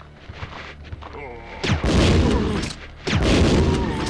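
Gunfire in Resident Evil 2 on the PS1: two heavy, booming shots ring out about a second and a half apart, each with a lingering tail, after a stretch of quieter game sound and a voice talking.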